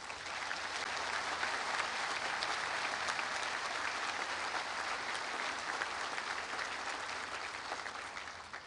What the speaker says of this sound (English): I would ask that a round of applause be given to them.